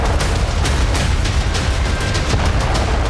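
Blasts from a Russian suicide drone attack on a Ukrainian grain warehouse crack out in quick irregular succession over a constant heavy roar, loud and near, with no one talking.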